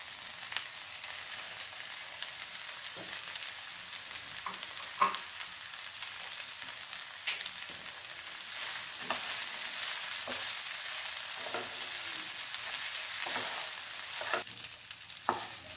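Vegetables and pasta stir-fried in a pan give a steady close sizzle with scattered clinks and scrapes of a spoon against the pan, with no talking throughout.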